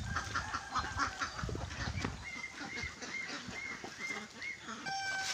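A flock of Rhode Island chickens clucks and flaps around at feeding time. The busy, close calls and wing rustles run throughout, and a faint voice can be heard now and then.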